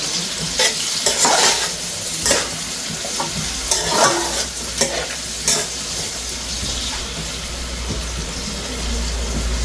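Hot pepper and onion frying in a pan for Jamaican ackee and saltfish, a steady close sizzle with repeated scraping stirs of a utensil, moderately loud throughout.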